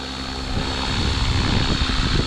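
A radio-controlled helicopter flies in sport mode at 70% throttle, giving a steady, loud rotor and motor drone with low thrumming blade pulses that grows slightly stronger after the first half second and holds without talk.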